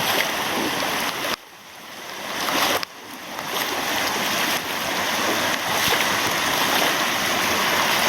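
Swollen creek after heavy rain, rushing water roaring broadband and steady near the bank, with two brief dips in the flow noise partway through, no talking.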